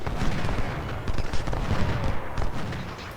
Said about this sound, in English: 12 pounders, focus your fire now on Wilcox.